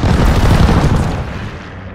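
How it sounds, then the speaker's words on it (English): A hostile strafe run in a 4v4 multiplayer video game, heard as a dense, loud roar of rapid gunfire and booming explosions that rumbles heavily and then slowly fades. "Hostile strafe inbound!"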